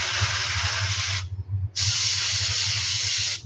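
An airbrush sprays paint onto a fishing lure in two steady hissing bursts, the first about a second long, then a short gap before a longer, even burst, close and fairly loud.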